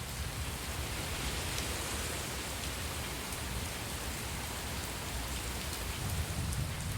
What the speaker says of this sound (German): Es ist einer der seltenen Tage, an denen es regnet.